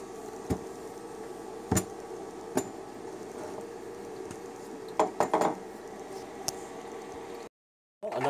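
Igloo tabletop ice maker running on solar power, dropping ice cubes into its bin: scattered sharp clinks and a brief clattering cluster over a constant motor hum.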